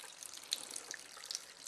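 Water poured into a small reagent test container for an ionizer water test, a faint, brief trickle with light splashy ticks.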